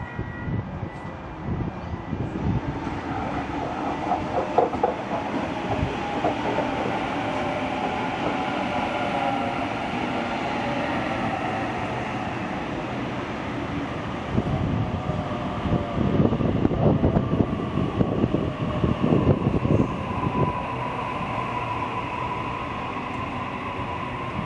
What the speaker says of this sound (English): we see a Sydney Trains A set pulling in to pick up weekend commuters